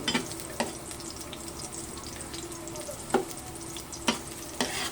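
Garlic sizzles steadily in hot oil in a pan while it is stirred, with a few sharp scraping knocks from the utensil rising above the constant close frying hiss.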